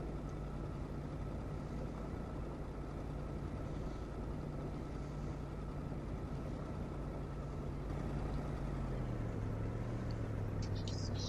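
A truck running low on fuel in the video game Kona, its engine humming in a steady, continuous drone with a low tone that drops in pitch near the end, heard without any talking.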